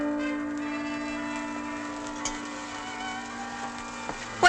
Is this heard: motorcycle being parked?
no